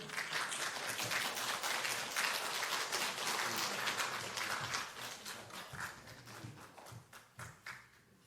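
A Korean church congregation at Jeonju Bukbu Church applauds a member being honored, a loud dense roar of clapping that holds steady, then thins into scattered individual claps toward the end.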